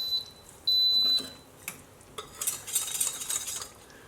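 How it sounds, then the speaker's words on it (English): A whisk scraping through an arrowroot mixture in an Instant Pot on sauté mode, following a steady electronic beep near the start; the quick metallic taps and swishes grow busier toward the end, with no talk. "Just whisking the arrowroot mixture in."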